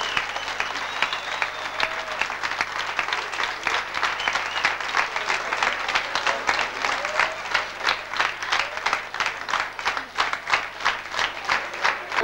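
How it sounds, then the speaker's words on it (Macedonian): An audience at a folk ensemble's concert on tour in Malmö claps in rhythmic unison, loud and sustained for the whole span, with occasional crowd murmur underneath. "Еден аплауз."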